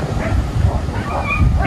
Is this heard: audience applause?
no